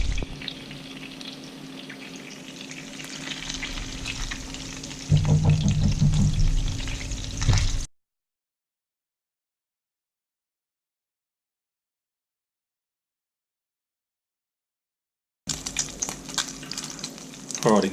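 Swedish meatballs frying in butter in a pan, a soft steady sizzle that turns louder and busier for a few seconds, then cuts to silence before the sizzling returns briefly.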